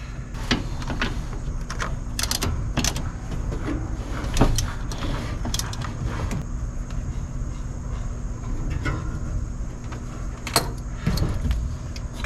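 Wrench work on a new brake master cylinder on a 1968 Pontiac LeMans: scattered metallic clicks and taps of the wrench on the nuts, irregular and close, over a steady low hum, with no talking.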